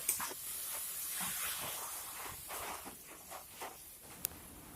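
Water poured into a pan of drumstick and dried fish curry gives a soft, steady hiss and bubbling sizzle that stays faint throughout.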